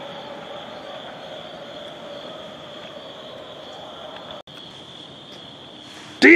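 A Metro North diesel train rolls past at night with a steady drone, a thin high wheel squeal, and a faint chirping background. A louder burst comes right at the end.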